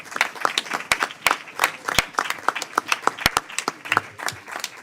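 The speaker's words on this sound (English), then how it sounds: "I would just ask you to applaud our two members" Members of a congressional committee clap in scattered applause during a bill markup, a modest group of sharp individual claps in a meeting room, with a faint voice underneath.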